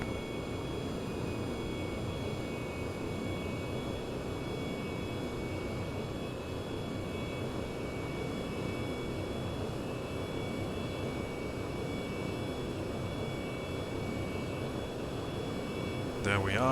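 Steady jet engine roar of an F/A-18 in the IL-2 1946 flight simulator during carrier landing practice, a constant broadband drone with a whistling high tone holding throughout, no talking heard.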